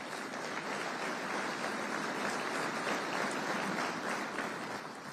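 An audience at a defence summit in Northeast Indiana claps steadily for several seconds, a dense, even wash of applause filling the hall and tapering slightly at the end.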